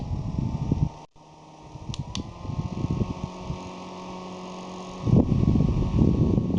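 A small battery-powered mini desk fan with three speed levels whirs steadily up close, with a brief dropout near the start and the airflow noise rising again toward the end.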